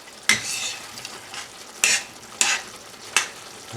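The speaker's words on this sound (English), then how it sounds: "And now you're just letting this simmer." Meatless homemade taco filling simmering in a pan, a soft continuous bubbling sizzle broken by four sharp clinks of a utensil against the pan, close up with no talking.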